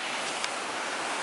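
Mountain waterfall rushing in a steady, dense broadband wash, close and unbroken for a moment.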